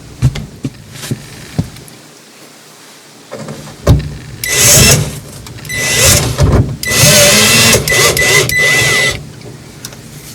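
An electric drill whirs in several short bursts in a garage, loud and close, with clicks and handling noise between the runs.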